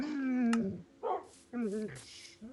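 Dogs in the game Minecraft whimper and yip in short, high, wavering bursts, with a couple of separate cries close together and a soft rustle between them.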